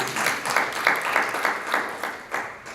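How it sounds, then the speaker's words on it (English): Audience applause for a graduate at a ceremony, a light, scattered round of clapping with soft rhythmic bursts, moderately distant and fairly faint. "Give her a round of applause."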